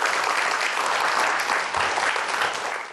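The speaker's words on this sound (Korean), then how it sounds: "큰 박수로 환영해 주세요" Studio audience applauding loudly and steadily at a TV talk show as a company CEO guest is welcomed onstage, sustained clapping that tapers slightly at the end.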